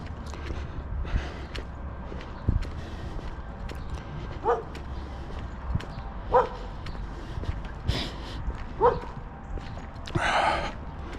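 A few dogs bark intermittently up a road, somewhat distant single barks spaced a couple of seconds apart, over footsteps and outdoor background noise during a walk.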